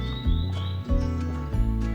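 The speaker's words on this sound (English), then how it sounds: "Birds are talking outside" Birds chirp outside at a backpacking campsite in the Kuju mountains of Japan, a few thin, high calls over a low, steady background hum with soft periodic thumps.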